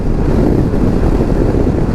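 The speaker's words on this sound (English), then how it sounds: "currently it's extremely windy. I'm really curious to see how the mic picks up this part of the audio." Strong wind buffets the microphone of a moving vehicle on a very windy day, a dense, loud, low roaring rumble that holds steady for the full two seconds with no voices.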